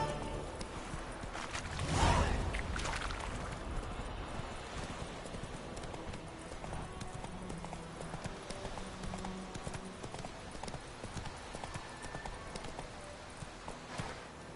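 Rapid clip-clop of a galloping horse in The Witcher 3 video game, quiet and rhythmic, with a brief louder whoosh near the start and faint game sounds beneath.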